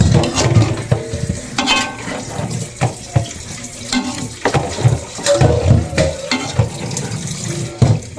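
Coconut milk is stirred into a simmering carabao meat stew, giving wet sloshing and spoon scrapes against the pot in irregular bursts, close and fairly loud, with a faint bubbling underneath.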